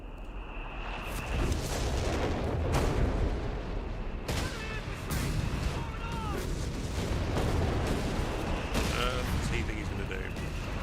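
Off-map artillery barrage in a World War II strategy game, a steady loud rumble of distant booms and impacts rolling on continuously, with a voice talking over it.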